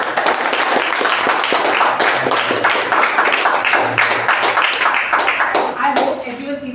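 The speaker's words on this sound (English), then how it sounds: "Can I have a sample of how the thunderous round of applause?" A meeting audience gives a loud, sustained round of applause, dense clapping at close range that holds steady for several seconds before thinning out at the end.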